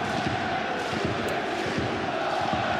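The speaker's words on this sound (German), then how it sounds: "die mitgereisten Rapid-Fans, so an die 800 dürften sein, können erstmals über einen Treffer jubeln" About 800 travelling Rapid Vienna away supporters cheer a goal at Wacker Innsbruck's football stadium, a dense sustained roar of crowd noise and chanting, distant and steady throughout.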